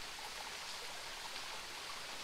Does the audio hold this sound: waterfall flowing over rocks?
yes